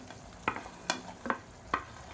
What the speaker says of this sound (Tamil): இப்போ நம்ம வதக்கி வச்சுருக்க இந்த வெண்டைக்காயை சேர்த்துக்கலாம்.